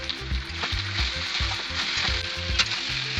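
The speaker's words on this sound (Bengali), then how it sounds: "এবার আমরা সেদ্ধ করা বুটগুলো ঢেলে দিলাম, দিয়ে ভালো করে নাড়াচাড়া করে নেব।" Boiled chickpeas fry with turmeric and salt in a pan for paneer ghugni, a loud steady sizzle broken by rhythmic scraping stirs.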